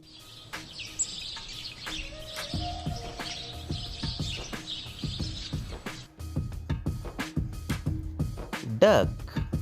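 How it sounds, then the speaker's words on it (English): A sparrow chirps in quick, high, repeated tweets that are fairly close, over a busy background of clicks and low knocks, with no talking. "Sparrow."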